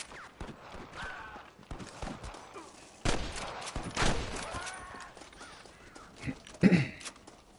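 Gunfire in the video game Red Dead Redemption crackles in scattered bursts, some shots loud and close, others more distant, with brief pauses between volleys.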